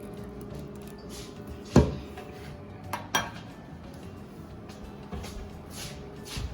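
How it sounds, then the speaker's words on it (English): Ice cream scooped for a brownie sundae in a home kitchen: soft scraping of the scoop with a few sharp clinks and knocks of metal against a dish, close by and fairly quiet. "So now I'm just gonna scoop the ice cream."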